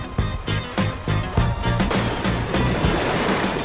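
Water and waves in the video game Avowed wash and splash rhythmically up close, then settle into a steady rushing surf.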